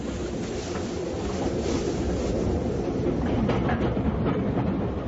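Steady rumble of a train running on rails, used as a continuous background effect in a full-cast audio drama, with a dense, unbroken rolling roar and faint wheel clatter, fairly loud and without speech.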